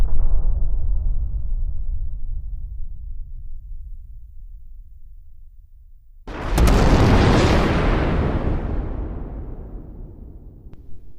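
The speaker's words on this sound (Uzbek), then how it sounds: "Yer sayyorasi 5 daqiqadan keyin portlaydi" A planet blowing up in the Minecraft video game: after a low rumbling stretch, a sudden loud explosion bursts in and roars on, slowly decaying over several seconds with no voices.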